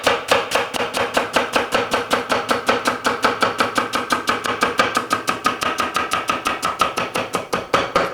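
Celery stalks being chopped with a knife on a cutting board, a fast, steady run of crisp, evenly spaced thuds and cuts close by, with no talking.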